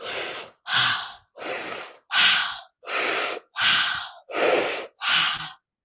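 Eight loud, heavy mouth breaths in a steady cycle of inhales and exhales, each a rushing burst of air separated by short gaps, very close.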